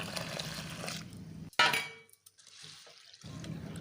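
Two cups of urad dal rinsed in water, one short, loud splashy swish and clatter up close, framed by quieter stretches of faint background noise.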